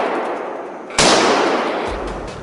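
A sharp, loud blast from a gun fired at wild boars near a tomato farm rings out mid-clip, its harsh crack trailing into a long, noisy decay that fills the rest of the moment.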